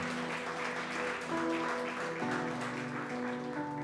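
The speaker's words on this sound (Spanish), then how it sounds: "Démosle este aplauso." A church congregation claps together, a soft, steady patter heard beneath sustained organ or keyboard chords that shift in pitch.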